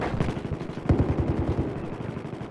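Rapid automatic gunfire from the Battlefield 4 video game rattles in a fast, even burst of shots with a sharp louder crack near the middle, loud and close, with no talking.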